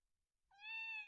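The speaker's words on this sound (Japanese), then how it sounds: "普通の野良猫だ。" Stray cat meowing in the video game Neko no Kaerimichi, a single clear, drawn-out meow rising in from silence and holding steady, close and clean with no talk.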